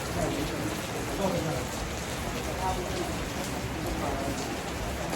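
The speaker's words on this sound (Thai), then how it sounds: "ฝนตก" Steady rain pours down, a dense continuous hiss of drops on surfaces with no pauses, moderately loud throughout.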